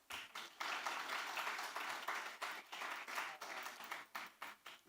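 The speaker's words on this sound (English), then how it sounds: "Yeah, you can clap her." Scattered clapping gives way to sustained applause from an event audience at the Jamaica Music Museum's Grounation 2023, welcoming a guest speaker; the bursts rise and fall for several seconds at moderate volume.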